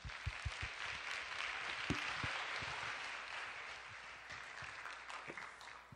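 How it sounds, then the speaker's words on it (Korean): A church congregation at a Tuesday evening worship service at Onnuri Church claps steadily to welcome the preacher, a continuous, fairly distant wash of applause with no pause. "우리 나오실 때 큰 박수로 맞이하겠습니다."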